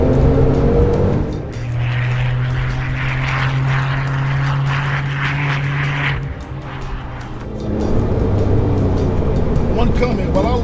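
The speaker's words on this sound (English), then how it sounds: "I don't know if you can hear the engine" Turbocharged Porsche engine on a race track, a steady droning engine note with a sustained tone passing by, under ongoing talk from a person inside the car.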